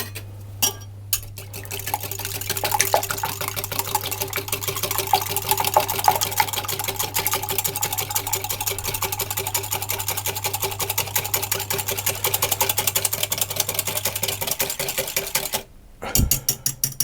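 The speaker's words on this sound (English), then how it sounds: "I'm going to whisk those together before they go into the rest of the mixture" Eggs, lemon zest and double cream whisked together in a bowl for old-fashioned queen cakes, a fast steady clatter of whisk against bowl running close and continuous, stopping near the end.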